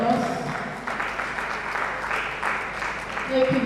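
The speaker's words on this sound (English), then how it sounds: "another round of applause" Audience applause following a lecture on human-centered AI, a steady wash of clapping that fills the room across the whole stretch, with faint voices mixed in beneath it.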